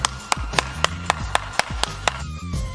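Applause from a single pair of hands, about ten sharp, evenly spaced claps, close and loud, with no talk.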